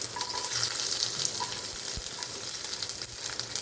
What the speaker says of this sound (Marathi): तेल गरम झालं की याच्यात आपल्याला मोहरी टाकायची आहे, जिरं, मेथीदाणे, लसण टाकू